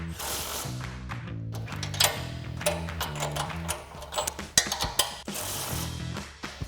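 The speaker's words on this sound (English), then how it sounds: "Gonna use that same socket and tighten these two." A socket ratchet tightening bolts on a front bumper for a 2016-2018 Silverado 1500, giving quick bursts of metallic clicking close by, with a rhythmic mechanical pattern and a few sharper knocks.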